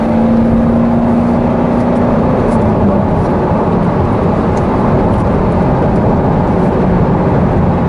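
Chevrolet C7 Corvette Z51 sports car pulling hard from inside the cabin, a loud steady engine drone with a low tone that climbs then shifts as it accelerates, broad road and wind noise throughout, no talking.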